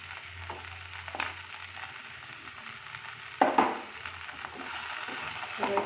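Slices of bread frying in a pan with boiled vegetables, a steady soft sizzle with occasional scraping stirs and a brief louder crackle partway through, heard close with no talking.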